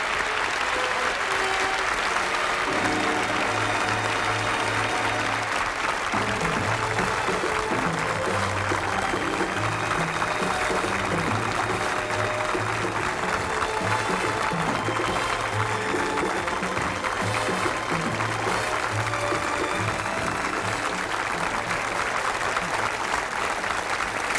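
Sustained applause from a television studio audience at a 1979 tribute show for a singer, dense and steady throughout with music playing underneath.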